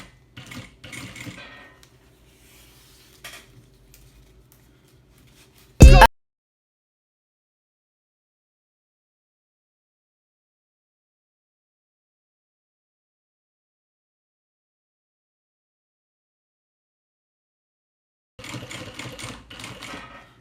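Sewing machine fitted with a zipper foot stitching fabric piping for a small insulated bag, short bursts of rapid mechanical chatter separated by a loud clunk and a long silence before stitching resumes.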